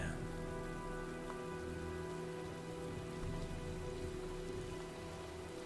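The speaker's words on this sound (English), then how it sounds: "Well, looks like a storm's coming." Steady rain and storm ambience in the video game Heavy Rain, a dense even patter of raindrops on surfaces with a low hum beneath, continuous and unbroken.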